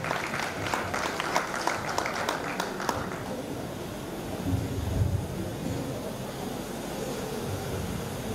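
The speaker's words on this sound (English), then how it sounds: "A round of applause." Audience at a graduation ceremony applauding for about three seconds, a busy burst of clapping that stops abruptly and leaves a steady background hiss with faint room murmur.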